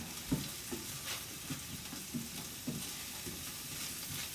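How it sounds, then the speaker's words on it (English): Diced onion and garlic cloves fry softly in a pan, with a faint, even sizzle and several light, regularly spaced scrapes of stirring; no talking is heard. "we're gonna kind of brown up these onions a little bit and get some color on them"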